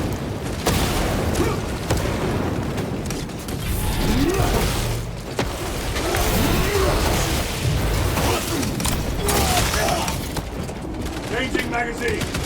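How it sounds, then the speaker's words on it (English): Frag grenade exploding amid heavy combat in Warhammer 40,000: Space Marine 2, loud booms layered over constant gunfire and mechanical clatter in a dense, unbroken battle din, with a voice calling out over it. "Frag grenade out!"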